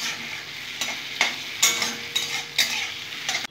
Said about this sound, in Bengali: এগুলো হালকা করে ভেজে নিচ্ছি বন্ধুরা